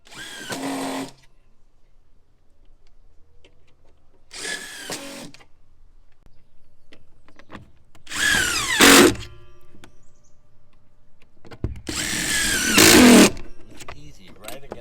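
A drill drives deck screws into deck boards through a Camco Marksman Pro guide, four short loud whirring bursts separated by pauses, with handling sounds between them.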